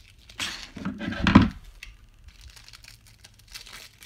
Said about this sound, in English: I'm going to cut this open, the shrink wrap open.